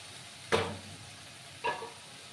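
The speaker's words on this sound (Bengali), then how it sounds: "আবার একটু নাড়াচাড়া করে দেব। পুরো জলটাকে শুকিয়ে নিতে হবে।" Food cooking in a pan gets stirred to dry off the water, with two short scraping stirs about a second apart over a faint, steady sizzle.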